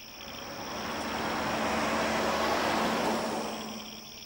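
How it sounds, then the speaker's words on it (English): A car passing at night, a broadband whoosh that swells from quiet to a loud peak and then fades away, with a steady hum underneath. "One night a passing car gave me the clue."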